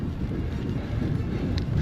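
Wind rushes across the microphone during a cycling ride in France, a steady low buffeting roar with no voices.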